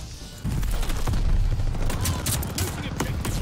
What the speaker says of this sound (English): Where are you shooting me from?